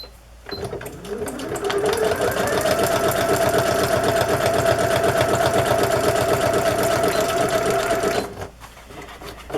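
A sewing machine stitches a fabric cluster onto a journal page, running steadily and close for about seven seconds with a fast, even needle rhythm before stopping.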